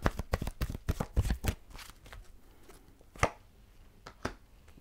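Healing with the Angels oracle cards shuffled in a quick burst of crisp riffling snaps through the first second and a half, then a few isolated card taps and flicks, close and clear with no talking.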